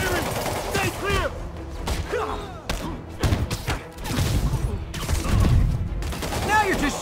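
Gunfire in the game Spider-Man Remastered on PC: scattered shots and thuds pop amid combat, mixed with voices and action effects throughout, with a heavier burst of impacts toward the end.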